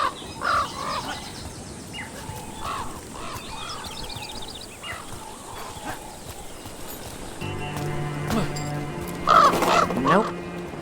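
Crow cawing in the video game Dragon Age: The Veilguard, a few short caws over a busy game soundscape with hoof clip-clop and other birds, a voice talking over it.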